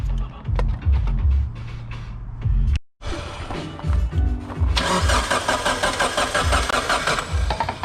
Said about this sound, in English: Let's give another short crank.